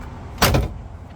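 A single short thump of a 1980 Pontiac Trans Am custom roadster's door shutting, brief and close, with faint background hum before and after.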